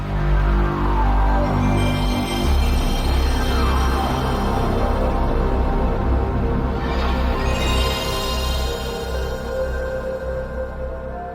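Sony PlayStation console startup boot sound, a loud sustained synthesized chime with layered tones swelling and shimmering, a brighter sweep near the middle, then slowly fading, heard alone without talk.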